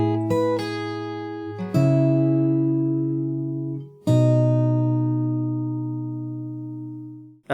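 The opening of a song on fingerstyle acoustic guitar: a few quick plucked notes, then full chords that ring out and decay for a couple of seconds each, played alone at close range.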